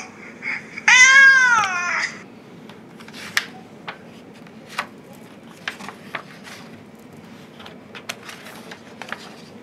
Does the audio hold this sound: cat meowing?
yes